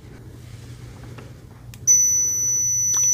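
After a quiet stretch of faint handling noise, a loud, piercing continuous electronic beep from a 1993 RadioShack 22-174B multimeter's continuity tester starts abruptly and holds steady to the end.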